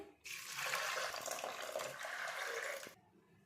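Water poured into a pressure cooker holding field beans, a steady close splashing pour lasting about three seconds before stopping abruptly.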